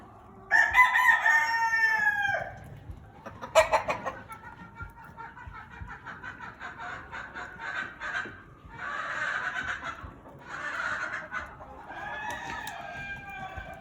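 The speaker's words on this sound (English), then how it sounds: "the large fowl Houdans" Large fowl Mottled Chocolate Houdan chickens in an upstairs coop pen: a loud, close rooster crow opens, then a steady string of clucks and shorter calls follows, with softer crowing-like bursts near the end.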